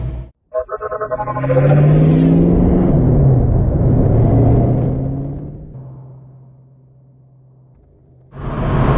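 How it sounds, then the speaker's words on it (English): A modified 1966 Ford Mustang Fastback drives close by with a loud, full engine note that climbs under acceleration, holds for several seconds, then eases off and fades before swelling again at the end. "Let's go for a drive and I'll tell you about my 5 favorite mods on my 1966 Mustang."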